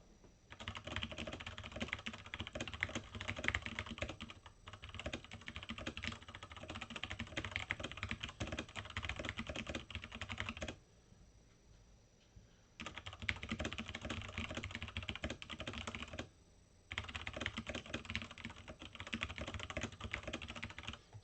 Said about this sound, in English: as you can see, I'm typing something